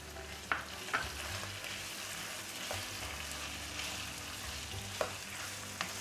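Sliced tomatoes are stirred into frying beef keema, making a soft, continuous sizzle with a few sharp spoon knocks against the pan and no voices.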